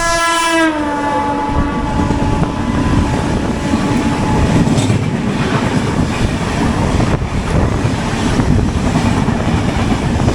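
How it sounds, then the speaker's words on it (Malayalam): The opposing Mangala Lakshadweep Express passes close by, opening with a short, loud horn blast and then a continuous heavy rumble and clatter of wagons rolling past for the rest of the time. "ഇതായിരുന്നു നമ്മുടെ opposite train, Mangala Lakshadweep express"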